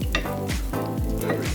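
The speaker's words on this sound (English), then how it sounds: "add some pasta water from the rigatoni into the sauce. Then we'll add the rigatoni after. There we go. Stir it all around." A spoon stirring starchy rigatoni pasta water into a bubbling San Marzano tomato sauce with plant-based sausage, in quick repeated strokes that scrape the pan over a soft sizzle.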